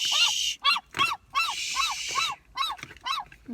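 Seagulls being fed call out in a rapid series of shrill, repeated squawks, about eight sharp bursts in close succession, loud and near, with no talking.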